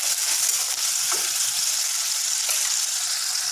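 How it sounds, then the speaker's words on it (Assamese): Onion paste fries in a pan for a banana kofta curry, giving a steady bright sizzle with occasional stirring scrapes, close and continuous. "মই এই পিঁয়াজৰ পেষ্টখিনি অলপ সময় ভালদৰে ভাজি ল'ম।"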